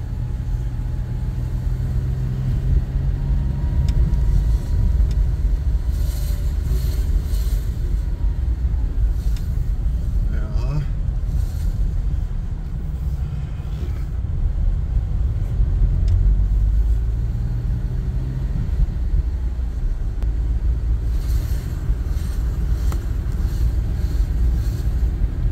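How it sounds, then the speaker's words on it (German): A car is driving along a road, with a steady engine rumble and tyre noise heard from inside the cabin, continuous throughout with slight swells in level and no talking. "Und da fahre ich jetzt mal nach Buxheim."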